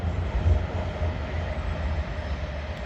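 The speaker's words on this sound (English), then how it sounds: "let that train go by" A train rolls past near a river kayaking route, a steady loud low rumble of wheels on rails that holds continuously throughout with no voices.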